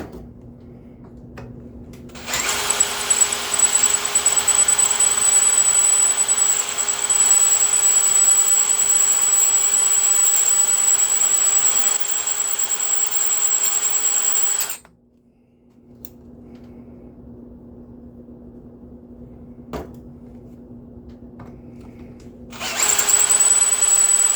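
A loud, high-pitched whining squeal from a Redmax GZ7100 chainsaw bar cutting through a tough piece, running steadily for several seconds, stopping briefly, then starting again.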